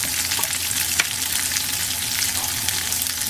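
Potatoes frying with luncheon meat in a pan, a dense, continuous loud sizzle with faint stirring clicks throughout, close up and without voices.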